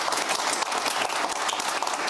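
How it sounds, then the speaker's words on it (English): A studio audience at a television talk show applauds, dense steady clapping that fills the room with no voices over it. "Big round of applause."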